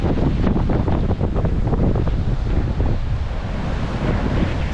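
Strong gusty wind buffets the microphone on Flagler Beach, Florida during Hurricane Idalia, a loud continuous roar with surf washing beneath it and no voices.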